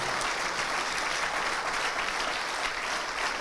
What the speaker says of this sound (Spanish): Dale la ofrenda de aplausos al Señor.